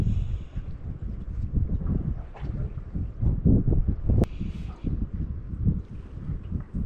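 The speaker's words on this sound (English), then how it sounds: "Swirly wind's quite annoying." Gusty, swirling wind at Pine Tier Lagoon, Tasmania, buffets the microphone with a low rumbling roar that rises and falls, steady throughout with no voices.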